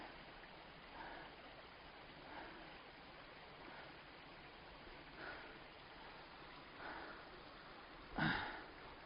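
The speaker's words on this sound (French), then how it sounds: "Regardez-moi ces petites cascades toutes mignonnes là." Small waterfalls tumble along a stream in the Petit Morin valley, a steady soft rushing wash with a brief louder splash near the end, and no voices.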